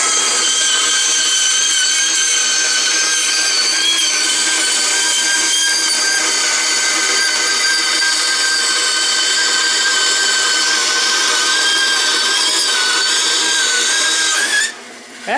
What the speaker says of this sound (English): So let's saw some 1/8 inch stock here to start with. 1/8 inch steel.